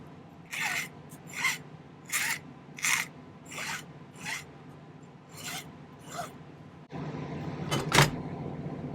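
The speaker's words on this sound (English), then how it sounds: "File it just a little bit down." A metal file works down a handmade aquamarine illusion ring in about eight separate, evenly spaced rasping strokes, close and distinct, followed by a louder burst of broadband noise near the end.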